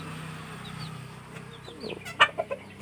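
A rooster clucks in short, scattered calls while chasing a duck in a farmyard fight, with a few louder squawks bursting out near the end over steady low background noise.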